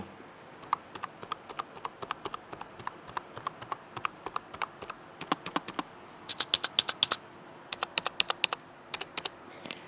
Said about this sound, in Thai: เราลองมาฟังเสียงของคีย์บอร์ดนี้กันหน่อยดีกว่า